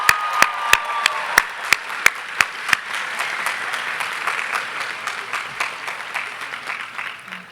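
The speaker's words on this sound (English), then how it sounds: "Everyone, give a round of applause to those two student speakers." A commencement crowd applauds student speakers, with several sharp, close claps in a quick rhythm at first, then a broad, sustained wash of many hands clapping that slowly fades.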